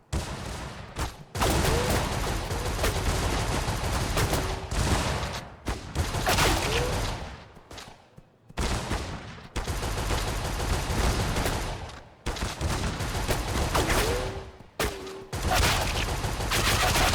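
Rapid, heavy gunfire from the video game Cash Guardian in an in-game city, loud, near and nearly continuous, with automatic bursts broken by a few short pauses.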